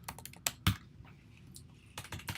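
Typing on a computer keyboard in quick irregular bursts of sharp key clicks, close and fairly loud, with brief pauses between clusters and no voice over them.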